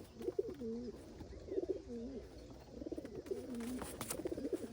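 A racing pigeon coos repeatedly in a loft, soft rolling calls in a steady rhythm of several phrases, near and fairly quiet over low background rustle.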